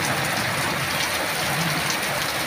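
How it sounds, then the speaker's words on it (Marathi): Heavy evening rain pours steadily as a dense, even hiss with no breaks, heard alone at moderate loudness. "एवढा पाऊस आहे, एवढा पाऊस आहे ना, भरपूर पाऊस आलेला आहे"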